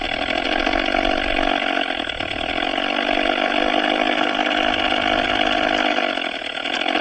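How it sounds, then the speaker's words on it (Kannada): An Ola S1 Pro electric scooter in vintage mode playing a simulated old-vehicle engine sound, a steady loud droning hum with a brief dip in pitch, continuous throughout. "ಈ ವಿಂಟೇಜ್ ಸೆಟ್ ಮಾಡ್ಕೊಂಡ್ರೆ ಅಂತಂದರೆ ಈ ಥರ ಹಳೇ ಗಾಡಿ ಸೌಂಡ್ ಥರ ಬರುತ್ತೆ"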